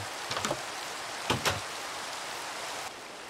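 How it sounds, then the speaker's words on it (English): Rain in a Minecraft-style video game makes a steady, soft broadband hiss, with a few brief louder taps and thumps near the start and middle. "Oh great, it's raining."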